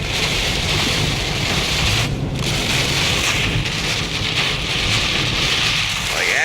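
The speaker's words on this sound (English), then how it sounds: "it is just sheets of rain coming down, man" Heavy winter rain pounds a car windshield during a storm, a dense, loud, unbroken roar of drumming water heard from inside the vehicle.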